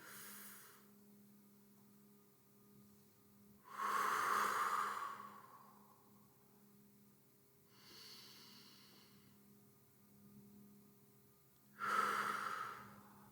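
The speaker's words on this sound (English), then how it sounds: "make sure you're practicing deep breathing" Deep, slow breaths in a paced exercise: loud, airy exhales about every four seconds, with softer inhales between, over a faint steady hum.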